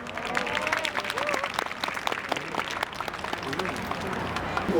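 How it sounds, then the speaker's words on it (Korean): Sustained audience applause at the opening of the Seoul Winter Festa in central Seoul as the mayor is welcomed to the stage, steady dense clapping with crowd murmur and a few voices mixed in, swelling slightly at the end. "큰 박수로 맞아주시기 바랍니다"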